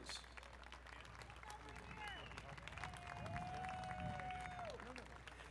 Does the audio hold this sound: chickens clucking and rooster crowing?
no